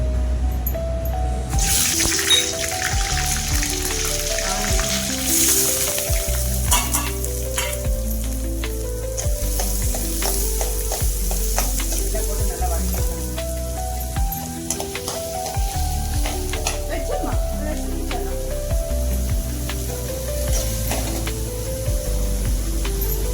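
Onions with bay leaf, cloves, cinnamon and green chilli frying in oil in a pan for a chicken curry, giving a loud, steady, close sizzle with occasional stirring noises throughout and no talk.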